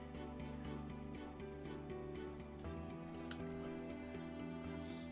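Scissors snip along a marked line in cushion-cover fabric, a series of soft close blade cuts with one sharper snip partway through, quiet and without talk.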